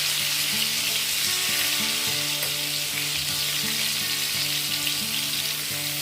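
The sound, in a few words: frying pointed gourd (potol) pieces in a pan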